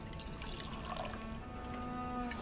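A drink is poured in the video game Detroit: Become Human, a soft, steady liquid stream trickling quietly under a low background hum.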